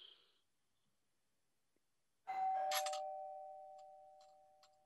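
A doorbell rings once after a short quiet stretch, a bright two-tone chime that rings out and slowly fades, heard alone and clear.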